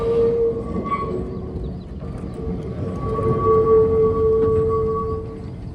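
A historic tram in a German national park rumbles steadily nearby, with a sustained metallic tone ringing over the rolling rail noise as it grows slightly louder.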